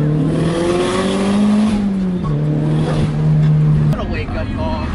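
A car engine revs with a loud, deep exhaust note, rising and dropping in pitch over several seconds close by, with people talking over it.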